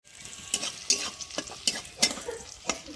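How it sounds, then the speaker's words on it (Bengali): Chopped onion, ginger, garlic and green chilli fry in a pan, sizzling under about half a dozen brisk spatula strokes that scrape and clack at close range. "পেঁয়াজ, আদা, রসুন সব একটু হালকা ভাজা ভাজা হয়ে গেছে।"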